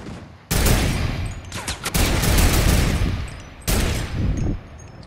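In Fortnite, a turret fires in loud, close bursts: a sustained volley, a short break, then another burst, all dense and rapid like machine-gun fire.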